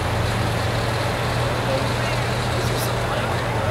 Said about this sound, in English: It's an early truck, they all make those noises.